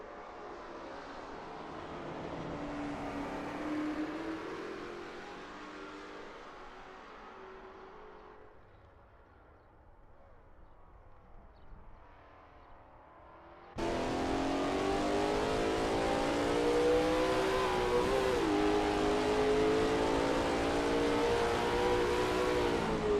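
A Lola T70 MkII Spyder race car in a Brands Hatch racing video game, its engine rising and fading as it passes, then a sudden cut to a loud, sustained, high-revving engine roar close up.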